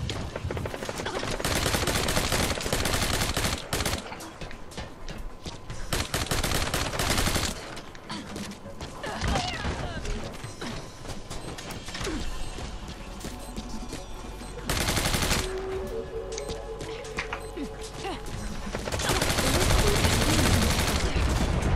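Submachine gun fire in Metal Gear Online comes in rapid bursts, with loud dense volleys at the start, middle and end and lighter shooting between them.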